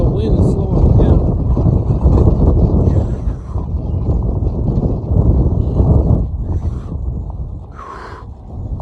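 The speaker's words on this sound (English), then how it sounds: "Oh my goodness, the wind is slowing me down." Strong wind buffets the microphone outdoors in heavy, low rumbling gusts that swell and ease throughout, with a person talking underneath.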